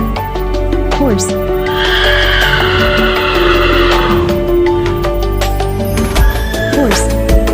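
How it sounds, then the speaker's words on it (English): A horse neighs and whinnies among other domestic farm animal sounds, the call rising then falling in a few bursts over a busy, steady background. "Horse."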